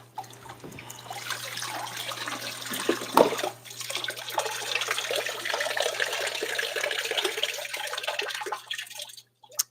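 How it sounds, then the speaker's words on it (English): Water trickling and dripping as a battery slot drains on an MH51B fuel tank, a continuous close, light splashing patter with a steady low hum underneath. "that water you heard dripping was the battery slot draining"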